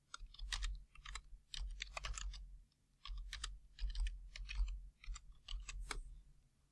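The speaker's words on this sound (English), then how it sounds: "I'm going to type Butler Bulldogs" Keys clatter in quick irregular bursts as text is typed on a computer keyboard, with short pauses between words, close and fairly quiet over a low steady hum.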